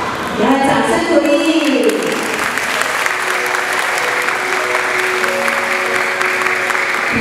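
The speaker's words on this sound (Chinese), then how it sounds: "给他掌声鼓励。" Parents and children at a kindergarten graduation ceremony receive sustained applause from the audience, a dense loud clapping that continues throughout while an announcer speaks over it at the start.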